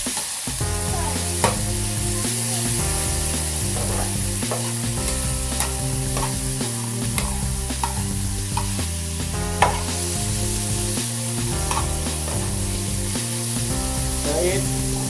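Beef for Cambodian lok lak fries in a pan with a continuous close sizzle. Repeated stirring scrapes and taps run through it over steady background music.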